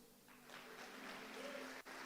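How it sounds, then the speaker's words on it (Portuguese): Church congregation applauding during a sermon, a moderate, steady wash of clapping that swells after a quiet start, with a faint sustained tone underneath and a brief dip near the end. "Ele merece um aplauso?"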